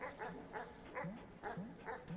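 Dogs barking in the video game Animal Well, a series of short yipping barks repeating in quick rhythm, several per second, fairly close and clear with no talk over them.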